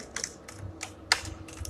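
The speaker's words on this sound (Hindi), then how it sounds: "यहाँ पे अपने को डोमेन लिखना है" A domain name being typed on a computer keyboard, a quick irregular run of about half a dozen close, light key clicks, quiet and alone with no speech.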